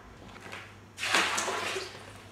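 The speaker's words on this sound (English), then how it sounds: "Next job is filling it up with water." Water begins rushing into a glass tank after a second of quiet room tone. It makes a soft, steady splashing pour that continues at a low level.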